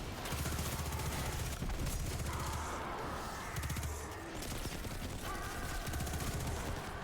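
Sustained SMG fire in Destiny 2: Shadowkeep, dense rapid bursts mixed with explosions and game effects, loud and continuous with short pauses between volleys.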